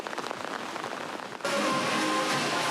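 Rain falling on a holiday: soft patter first, then after about a second and a half a louder, denser rush of rainfall that continues steadily, with no voices.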